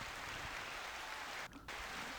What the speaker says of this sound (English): Much needed applause.